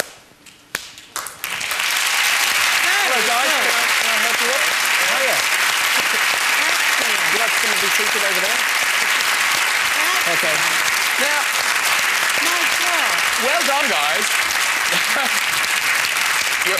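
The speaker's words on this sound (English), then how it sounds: "the audience will give you a lovely round of applause" A studio audience at a television chat show breaks into a long, loud, sustained round of applause, with a voice speaking over it.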